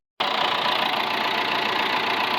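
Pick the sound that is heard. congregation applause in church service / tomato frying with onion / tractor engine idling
tractor engine idling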